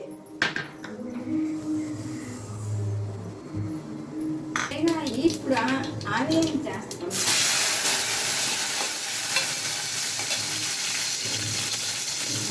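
Mustard seeds and cumin frying in about one and a half spoons of oil for a bottle gourd and peanut curry, with someone talking over faint clinks at first, then a loud continuous sizzle and hiss taking over.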